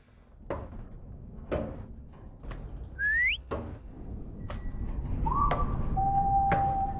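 In a ghost ship exploration game, a thin, eerie whistle rises and holds in a few long tones, set against sparse hollow knocks and a low ambient rumble that swells toward the end.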